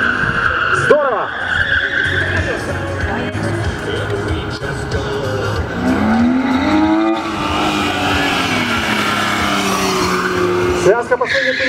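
A car on a speed maneuvering competition course in Mogilev. Tires squeal in sharp bursts while the engine revs rise and fall through quick turns. A commentator talks over it throughout.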